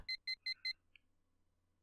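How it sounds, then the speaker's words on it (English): An alarm clock in a cramped apartment in the video game Last Window beeps four times in a quick, even rhythm, then falls quiet before one more beep starts at the end. "The alarm in my cramped apartment starts to beep."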